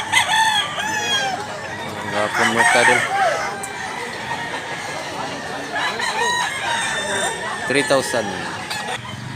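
Roosters crow loudly several times amid clucking hens, while someone talks over the birds.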